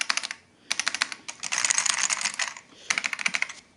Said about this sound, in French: J'aime bien le bruit que font les touches.